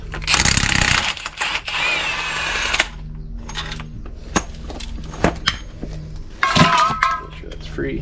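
Ratchet working loose a 36 mm CV axle nut on a 1999–2007 Chevy Silverado, rapid clicking and clattering metal bursts up close, mixed with clanks of tools and brief talk.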